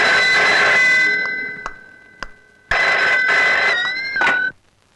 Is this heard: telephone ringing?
yes